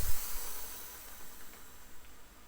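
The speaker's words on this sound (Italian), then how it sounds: "tutto il tubo arrotolato si gonfierà e man mano sentirete una sorta di sbuffo" A coiled compressed air hose on a workshop hose reel filling with air, giving a steady soft hiss with faint low puffs as it reaches pressure, heard alone at moderate level.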